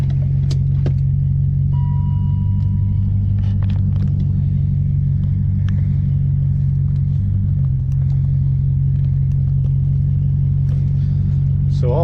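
Low, continuous road rumble and drivetrain drone of a BMW E39 540i heard from inside the car while it drives steadily, with a failing rear differential. There are faint clicks and rattles in the cabin.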